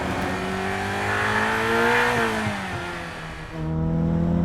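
A Ferrari F8 Tributo with a 3.9-litre twin-turbo V8 pulls hard on an open road, its engine note climbing through the revs, easing off, then droning steadily again, heard loud from inside without any talk.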